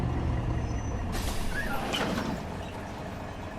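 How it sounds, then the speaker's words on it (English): Scania Citywide bus in the OMSI 2 driving game, loud engine drone with an air-brake hiss in the middle, running steadily without talk. "Unfortunately, this bus is very loud."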